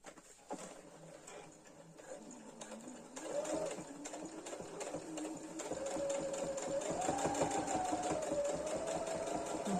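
A domestic sewing machine stitches a backstitch in fabric with white thread, a fast even rattle of needle strokes that starts after a short pause, speeds up and runs loud and close to the end.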